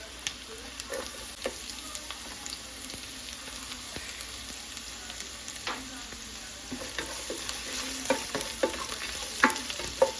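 Garlic fries in a pan with a soft, steady sizzle, broken by sporadic utensil taps and scrapes that grow busier and louder toward the end; no talking.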